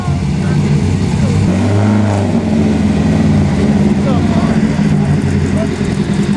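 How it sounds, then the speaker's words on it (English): Ferrari Mondial four-cylinder car engine at a concours car show, a continuous low drone with a brief swell of revving partway through, alongside background chatter. "Ferrari Mondial, 4-cylinder."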